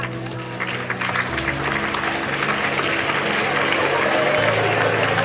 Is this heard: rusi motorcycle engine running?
no